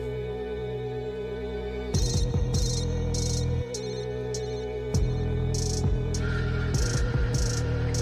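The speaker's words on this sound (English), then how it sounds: "Is that like a cell phone?" A cell phone ringtone sample in a hip-hop track chirps in repeated bright bursts over a looping melody and heavy bass hits.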